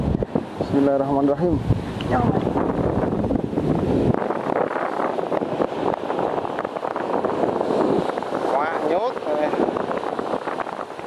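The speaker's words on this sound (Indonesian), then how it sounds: "Angin kenceng." Strong wind gusting across an open fishing spot during a sea-fishing outing, a steady broadband roar buffeting the microphone throughout while someone speaks briefly over it.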